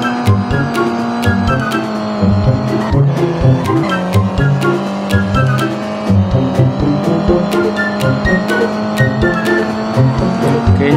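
A cartoon car speeds away fast, its loud engine roaring with tire squeals and skidding over a busy soundtrack.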